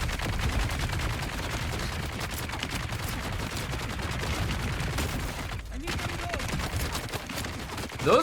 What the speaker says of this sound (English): Those guys are legitimately shooting me harder.